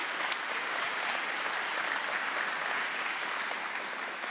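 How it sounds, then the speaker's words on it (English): A graduation ceremony audience at Plymouth Marjon University applauds, a dense, steady wash of clapping held at an even level throughout with no voices over it. "give yourself a massive round of applause"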